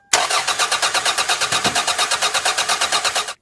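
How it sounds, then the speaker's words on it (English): A car engine cranks steadily over on the starter without firing during a no-spark check, a loud, even run of rapid repeated chugs lasting about three seconds before it stops. "we're going to get in our car, turn the engine, and look and see whether we're getting spark or not"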